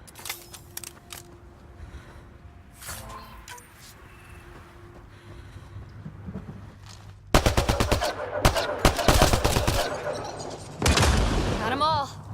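Rapid bursts of gunfire from the Mass Effect Andromeda video game, sharp loud volleys clustered in the second half after quieter ambient game sounds and scattered clicks, with some voice activity mixed in.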